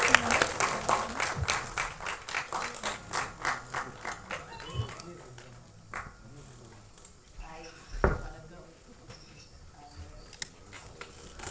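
An audience at a film album song screening event applauds with scattered, uneven claps that gradually thin out, followed by a few isolated knocks and light background noise.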